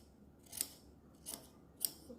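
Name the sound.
scissors cutting fabric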